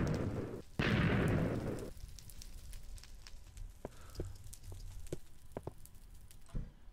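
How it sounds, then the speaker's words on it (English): TNT blocks explode in Minecraft, a loud booming blast with a rushing crackling tail up front, followed by scattered smaller pops and distant bangs over a low rumbling background. "These erratic TNT blasts are just freaking me out."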